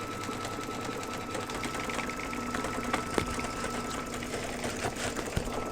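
A home embroidery sewing machine stitches a batting placement line on fabric held in a hoop for a mug rug, giving a steady, close, continuous mechanical whir and patter with faint clicks and no talking.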